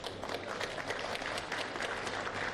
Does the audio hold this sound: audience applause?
yes